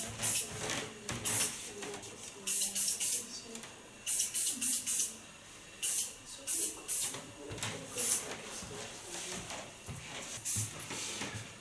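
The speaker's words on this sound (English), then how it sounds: "To hold them flexible, I use a flexible hairspray." Flexible hairspray sprayed onto curled blonde hair during a styling session, several short hissing bursts from an aerosol can, close and loud, with quiet pauses between them.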